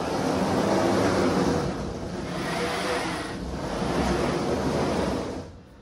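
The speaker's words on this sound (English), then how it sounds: "I've got a big surfacing bit in the router. And I'll just run it back and forth like so." A router fitted with a large surfacing bit passes back and forth over an ash tabletop, making a loud, continuous broadband roar that swells and eases slightly with each pass before cutting off.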